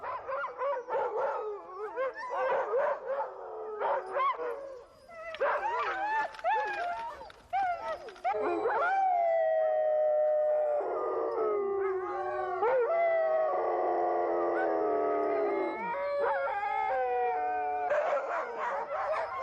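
Eskimo sled dogs at a camp among tipis howl and bark together, a loud, sustained chorus of long rising howls mixed with yips and barks, close by, with a voice heard at times.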